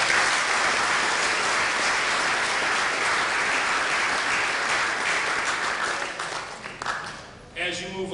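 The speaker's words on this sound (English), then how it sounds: "So I want to thank you and give you a round of applause as well." A crowd at a high school sports awards night gives sustained applause for several seconds, then it fades and a voice starts speaking at the end.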